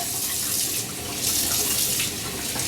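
Water runs steadily from a tap into a sink while a face is wetted before shaving, a continuous close hiss with no talk.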